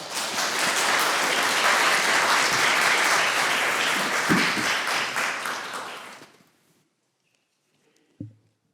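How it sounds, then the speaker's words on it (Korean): A church congregation at a Sunday worship service applauds loudly and steadily for about six seconds, then the clapping stops abruptly, leaving near silence with a single brief thump near the end. "우리 박수하면서"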